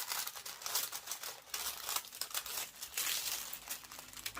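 Heat-shrink wrap is rolled around a canvas, giving bursts of crisp plastic crinkling and crackling in irregular waves, close and fairly quiet, with no talking.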